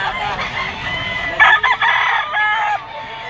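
A three-year-old green-legged Mayahin rooster crows close by, one loud, drawn-out call, with soft clucking before and after it.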